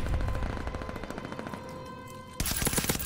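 Rapid video-game gunfire rattles in dense repeated bursts, with steady shots throughout and a louder, sharper volley near the end; no one talks over it.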